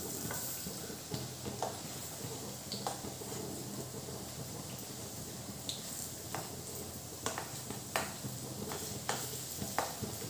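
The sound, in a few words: stirring pakoras frying in a pan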